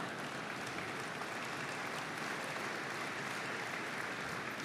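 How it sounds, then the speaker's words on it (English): Steady, dense applause from a crowd at a shareholders' annual meeting, sustained evenly throughout without pauses or voices. "Do I hear my children applauding?"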